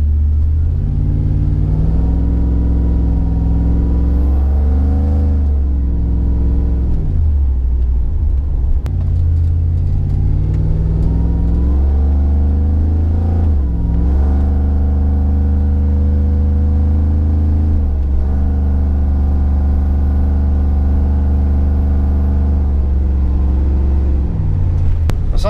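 Supercharged Chevrolet Tahoe truck cruising and pulling away, a steady loud engine drone from inside the cabin with rising and falling revs as it shifts and accelerates, no talking.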